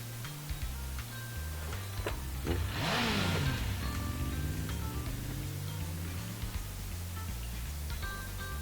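A car engine in the Zenless Zone Zero video game swells and sweeps past midway, its pitch sliding down, over a steady low game soundtrack with faint ticking.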